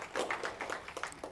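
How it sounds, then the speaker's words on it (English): A small audience at a student Toastmasters meeting gives brief, light clapping, a quick run of soft, uneven claps lasting about a second. "And a round of applause anyway"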